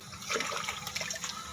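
Mixed liquid poured into a round biofloc tilapia pond four metres across, a brief close splashing gush of water throughout.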